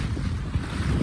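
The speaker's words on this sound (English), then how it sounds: "We're literally sailing off into the sunset." A sailboat crossing the Indian Ocean at sea in wind and waves: a steady low rumble of wind buffeting the microphone over rushing water, close and continuous with no voices.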